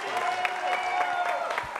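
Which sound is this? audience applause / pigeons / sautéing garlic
audience applause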